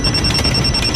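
A steady electronic ringing tone pulses quickly and loudly over a rumbling background, like a phone or alarm going off.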